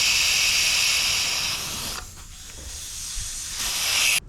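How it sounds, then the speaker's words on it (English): Air rushing out of a Harley-Davidson Pan America motorcycle tyre through the open valve stem after the valve core is removed, a loud steady close hiss that fades and then surges before cutting off. "So now I'll remove the valve."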